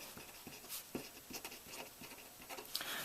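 Pen or marker scratching out a geometry proof diagram, soft irregular strokes and taps in a quiet room, faint and close with no talking.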